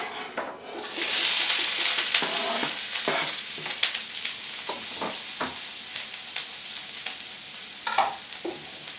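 Stir-fry of an eggroll-in-a-bowl mix cooking in a wok, a loud steady sizzle with repeated scraping stirs of a wooden paddle, close up and without talk.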